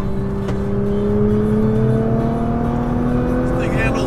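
An R35 Nissan GTR launches hard from launch control, its engine and drivetrain whine climbing steadily in pitch under a loud, close cabin roar, with a brief rattle near the end.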